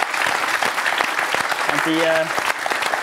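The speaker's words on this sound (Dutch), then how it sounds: "Dus graag een hartelijk applaus daarvoor" Warm applause from an audience at the Dutch community venue SG Were Di, dense and continuous, with a brief voice and a short tonal sound partway through.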